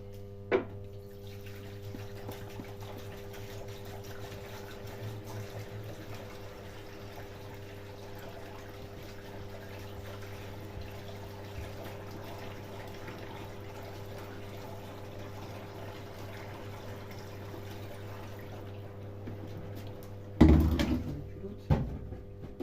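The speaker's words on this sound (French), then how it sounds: "le temps que je lui remplis sa gueule d'eau" Water runs steadily into a Miele washing machine as it fills, a constant hum with a low tonal drone, ending with a brief louder clatter near the end.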